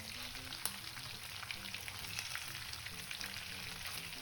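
Breaded chicken fries in a pan with a steady, dense sizzle and crackle, with occasional sharp pops and faint clinks, continuing evenly throughout with no talking.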